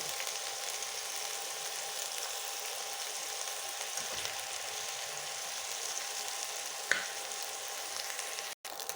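Hilsa fish tail fries in a pan while being pressed down, a soft steady sizzle held at a low level throughout, with a brief clink near the end.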